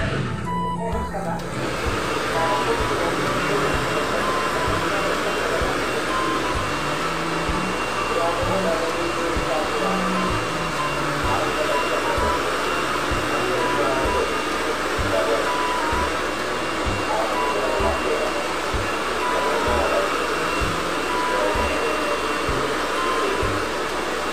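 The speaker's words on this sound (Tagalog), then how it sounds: "Kaya minoblowan ko pinatutuyo ko." A handheld hair dryer blows steadily while hair is dried during a Brazilian rebond and curl salon session, a loud continuous airy whoosh running the full length, with someone speaking over it.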